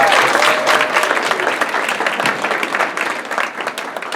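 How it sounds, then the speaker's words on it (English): Steady, dense applause from an audience at a school sports awards ceremony honoring the team captains, loud and sustained throughout with faint crowd murmur underneath. "Give them a round of applause."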